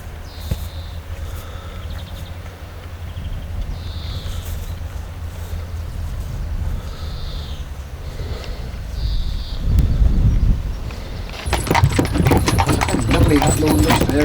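A horse walking outdoors in a field in Ireland, its hooves giving a steady, fairly close clip-clop under wind noise, with people talking over it.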